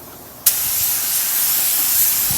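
Spray gun spraying epoxy primer on a 1974 Ford F250 truck cab, a sudden loud hiss starting after a brief pause and continuing steadily, close and alone.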